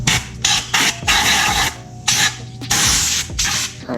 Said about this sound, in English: I'm gonna blow it out with some compressed air